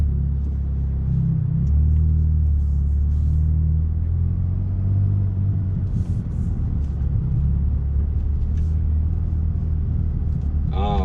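A Ferrari Roma driving in automatic drive gives a steady, loud low engine rumble from inside the cabin, with talk running over it throughout.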